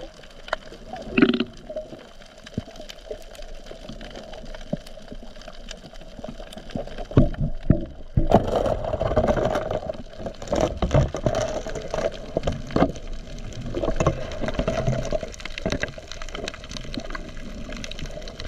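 Big sea waves slosh and slap against a small boat in rough night weather, a continuous watery churn with irregular splashes and knocks that swell louder midway through, with no talk.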